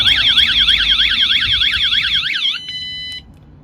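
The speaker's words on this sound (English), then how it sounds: "This turns the alarm on automatically." A van's security alarm set off from the remote control fob blares loudly and up close, a rapid warbling electronic siren that holds steady for about two and a half seconds, then cuts to a brief steady tone before stopping.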